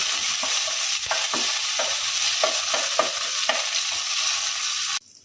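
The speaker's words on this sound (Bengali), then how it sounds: "কারি পাতাটা একটু নাড়াচাড়া করে দিয়ে দিলাম" Curry leaves fry in hot oil with a loud, constant sizzle while a spatula stirs them in short, repeated scrapes. The sound is close with no talking and cuts off abruptly at the end.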